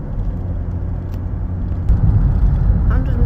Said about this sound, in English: Right, getting back in the car now.